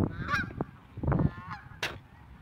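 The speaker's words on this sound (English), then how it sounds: "Now this is a lot of geese." A large flock of geese honks nearby, with several loud, separate calls rising over a background of softer cackling.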